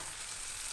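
Sliced onions fry in hot oil in a pan, a steady soft sizzle heard close up and alone for a brief moment.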